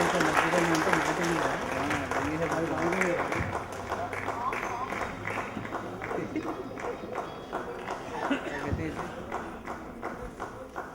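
An audience at a stage event claps steadily for a long stretch, a dense wash of applause that stays fairly even throughout, with a voice speaking over it at the start.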